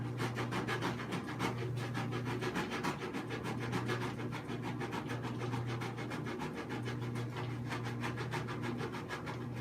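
Sanding the inside of a workpiece by hand: steady, close rasping strokes in a quick repetitive rhythm run continuously over a low constant hum.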